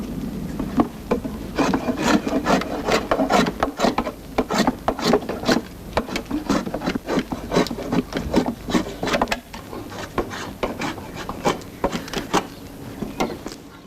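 Oak wine barrel staves being smoothed by hand, a run of quick, rhythmic rasping strokes, close and crisp, repeating steadily with brief pauses between bursts.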